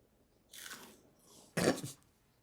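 Close, quiet chewing and crunching in two short bursts, a soft bite followed by a louder crunchy chomp, with no talking.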